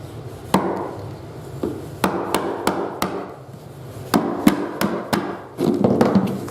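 Sharp wooden cracks and knocks as a screwdriver blade pries and snaps off a piece of hardwood flooring in a problem room during a laminate install, about a dozen irregular close, loud hits over low room noise.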